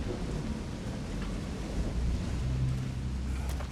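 In God of War Ragnarök, a storm-ridden desert wasteland in Alfheim gives a steady wash of wind, rain and low thunder, with a deeper rumble swelling toward the end.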